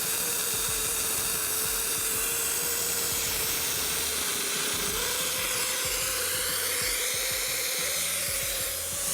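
A Multiplaz 3500 plasma torch running at maximum amperage, giving a continuous loud broadband hiss with a steady tonal hum underneath that shifts slightly partway through.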